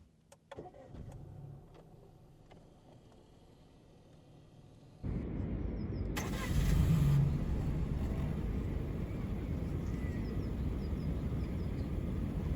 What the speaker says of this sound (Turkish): İçeriden ve dışarıdan aracımızın çalışma sesine bakacak olursak